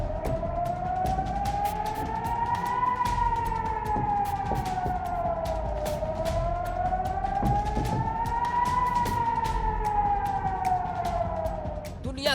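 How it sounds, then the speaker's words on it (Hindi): A war siren sounds continuously and loudly, its tone rising and falling in slow, even sweeps that repeat several times, with a faint voice underneath. "जहां हर दिन हर घड़ी जंग का सायरन बज रहा है"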